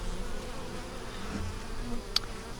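Honey bees buzz on a hive frame around their newly hatched queen, a steady, soft, dense hum close by with no voices and one brief sharp click near the end.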